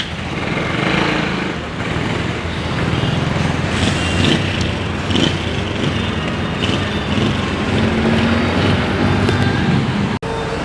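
A motorcycle engine runs steadily close by, a broad continuous drone with no speech over it, ending in an abrupt cutoff near the end.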